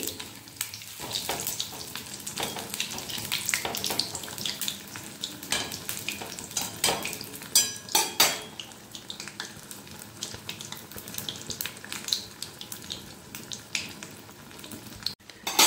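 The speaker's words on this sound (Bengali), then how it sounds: "এভাবে উপর দিয়ে হালকা হালকা তেল দিতে থাকবে, তাহলে উপরটা খুব সুন্দর লাল করে ভাজা হয়ে যাবে।" Eggplant fritters (beguni) sizzle steadily in hot oil in a pan while oil is spooned over their tops, a dense close crackle with brief louder bursts of spatter and no talking.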